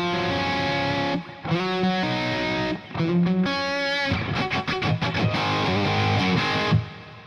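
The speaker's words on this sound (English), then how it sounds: "I prefer to use Hall reverb or plate reverb, but for now let's stick with Hall reverb." An electric guitar played through Amplitube 5 with a Hall reverb effect, distorted chords and single-note runs ringing out with a spacious tail, loud and alone.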